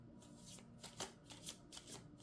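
Affirmation cards being shuffled, several short papery riffles and slides in quick succession, close and fairly soft, with no talking.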